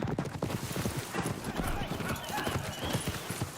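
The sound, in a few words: horse hooves clip-clopping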